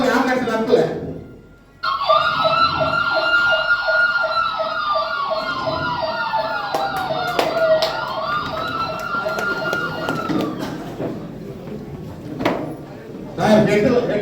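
An ambulance siren wails loudly and steadily for about nine seconds in a fast repeating warble during a staged safety-day emergency drill, with excited voices and crowd noise around it before and after.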